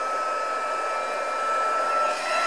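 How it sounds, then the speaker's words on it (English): A handheld heat tool blows hot air steadily for the whole stretch, a loud, constant, hair-dryer-like whoosh with no talking over it. "my heat tool, which I will heat up"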